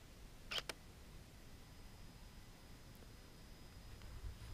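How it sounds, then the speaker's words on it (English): A single camera shutter fires as a short, faint double click close by in a quiet outdoor setting while shooting landscapes, followed by soft background hiss. "push the shutter again."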